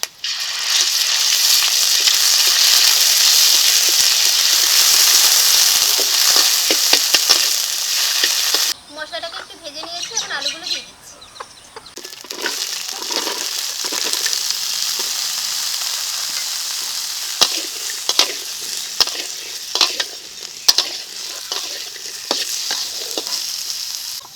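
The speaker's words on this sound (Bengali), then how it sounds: "সিঙারা আলু রান্না করার জন্য এই তেলে দিয়ে দিচ্ছি পাঁচ ফোড়ন" Panch phoron spices with a paste of ginger, cumin and dried red chilli fry in hot oil for potato singara filling, a loud steady sizzle that briefly drops away near the middle, then resumes with stirring clinks and crackles.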